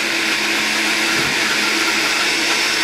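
A kitchen blender purees a cooking sauce for a slow-cooked pork belly dish with cider jus, giving a steady, loud, high-pitched whirring motor roar that runs unbroken throughout without any talk.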